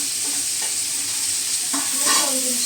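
Cinnamon, cloves, pepper, poppy seeds and roasted gram fry in a pan for sambar, a loud, constant hissing sizzle with a couple of light scrapes from stirring.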